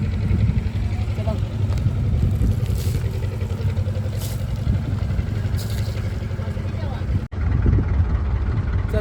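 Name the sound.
fishing boat engine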